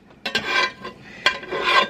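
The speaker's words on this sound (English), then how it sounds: "I'm going to put in the ground beef and onion, and I did not drain it." Ground beef and onion tumble into a pot with soft, scraping, rasping bursts as a utensil pushes them in, two clusters of shuffling noise close by, with no talking.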